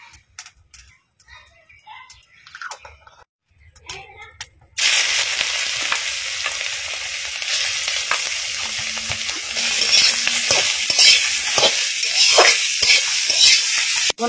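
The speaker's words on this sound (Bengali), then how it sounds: "লাউটা সেদ্ধ হয়ে গেছে, এখন একটু ঘি দিয়ে ভাজি নিতে হবে।" Boiled bottle gourd goes into hot ghee: a few seconds of quiet clinks and scrapes, then a sudden loud, continuous sizzle that carries on steadily with occasional utensil stirs.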